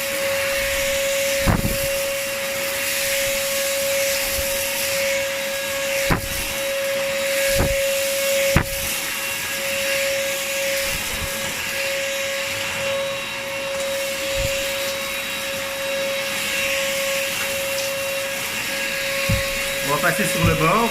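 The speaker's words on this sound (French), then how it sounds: "On va mettre maintenant, hop, la seconde vitesse. Et on va tout aspirer." A Proscenic P8 stick vacuum cleaner runs on its second speed, giving a steady, close motor whine with a sustained tone, broken by a few sharp knocks and clicks as it moves over the floor.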